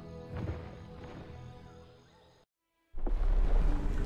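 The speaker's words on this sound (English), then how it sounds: "It's the earth-shaking stomp of a Brontosaurus." A Brontosaurus stomping in the video game Prehistoric Kingdom: faint ambient rumble fades into a brief silence, then a deep, heavy, booming impact hits loudly and rumbles on.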